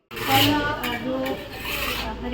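A ladle stirs and scrapes thick amla-based ayurvedic paste (Brahma rasayan) in an iron kadhai, giving a continuous close rasping rub with slight pauses, no talk over it.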